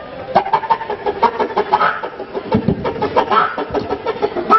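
A voice imitates a rooster, a series of clucking, crowing bursts in a rapid uneven rhythm, close and fairly loud.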